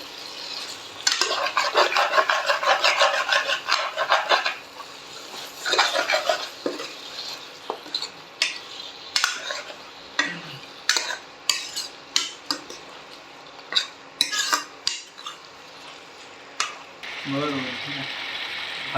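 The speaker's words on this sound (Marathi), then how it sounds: "चांगलं एकजीव होईपर्यंत हलवून घ्यायचं आहे." A spoon stirs a ginger, garlic and onion paste in a pot for a Marathwada-style yellow soup, scraping and clinking against the metal in repeated short bursts, with a brief voice near the end.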